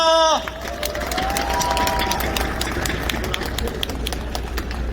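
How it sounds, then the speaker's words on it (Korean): A crowd at an outdoor campaign rally in a station square applauds and cheers, clapping dense and sustained, after a short burst of amplified voice, with shouts and a high drawn-out tone riding over the noise. "뜨거운 박수 부탁드리겠습니다."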